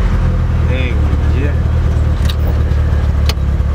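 Nissan S13 engine started and running, a loud close idle rumble that holds steady, with faint clicks and a sharp click near the end.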